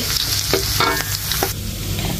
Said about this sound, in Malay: masakkanlah bahan-bahan ni sehingga dia naik bau okay? sehingga dia ke kuningan